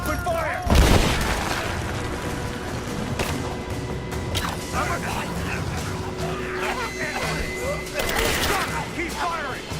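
Gunfire in the action game Rise of the Tomb Raider: a loud close blast followed by continuous crackling shots and impacts over a dense battle din, with voices shouting through it.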